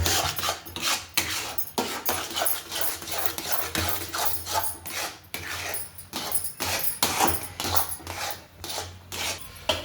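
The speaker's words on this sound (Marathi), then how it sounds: "अशा प्रकारे हलवायचे." Upma being stirred in a pan, a steady scraping and rasping of a spoon against the metal in repeated strokes, close and fairly quiet, with no talk.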